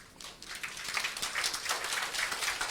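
Church congregation clapping hands together at a year-end service, a steady dense patter of many palms sustained throughout at moderate level.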